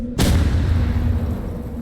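A sudden loud boom erupts and rolls into a long, rumbling decay, a heavy explosion in the Roblox game Rivals, with no voices.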